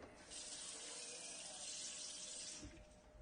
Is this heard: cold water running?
yes